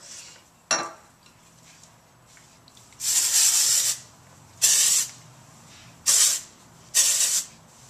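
Four short hissing bursts from a hairspray can, each lasting under a second, separated by brief pauses, preceded by a faint rustle.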